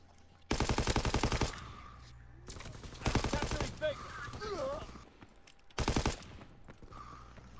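Three loud bursts of rapid automatic gunfire in a first-person shooter video game, with quieter shots and a voice talking in the gaps between them.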